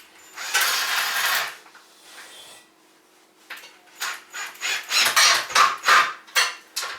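A nut being screwed on with the small supplied tool while a kids' single bed is assembled, heard as a long rasping turn, a pause, then a run of short rhythmic ratcheting strokes, close and fairly loud.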